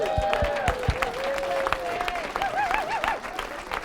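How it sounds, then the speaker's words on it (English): Audience applause at a real estate talk, steady clapping throughout with a tonal musical melody playing over it. "Can we give Carson a round of applause?"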